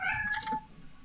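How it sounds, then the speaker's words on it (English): A pet cat meows once, a clear close drawn-out call that rises and falls, with no talk around it. "My cat is meowing."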